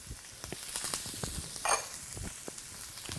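Onions and peppers hitting a heated pan for spicy pumpkin chili, giving a continuous close hiss of sizzling with small crackles and a brief louder spit in the middle.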